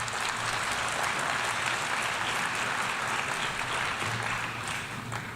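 Sustained audience applause at the United Nations for Lula's speech on the environment and fighting Amazon deforestation, a dense, steady roar of clapping with no talk, easing slightly near the end.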